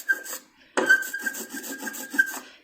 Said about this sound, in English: the idea is trying to get an even consistency on your roller. And you can hear it's got that sticky noise